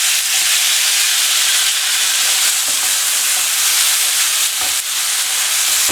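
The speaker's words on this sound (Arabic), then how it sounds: "وتوا باش نضيف التفاح." Apples cook in a pan with cinnamon for an apple cake, giving a loud, continuous frying sizzle and hiss with a few faint stirring scrapes and no talking.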